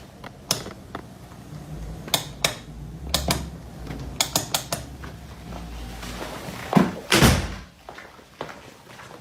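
A hotel room door swings and thuds shut with a latch click, amid several sharp mechanical clunks and rattles, close and fairly loud.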